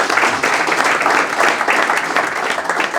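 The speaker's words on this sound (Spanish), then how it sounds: "Un aplauso para David." Steady, enthusiastic applause from an indoor audience at a book presentation for a history of the Copa Faulconbridge, with dense hand-clapping sustained throughout at an even, loud level.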